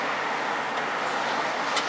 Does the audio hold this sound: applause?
no